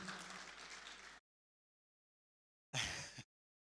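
Applause from a seated audience at a conference, welcoming a digital transformation consultant, runs for about a second, stops abruptly, then returns in a short burst after a silent gap.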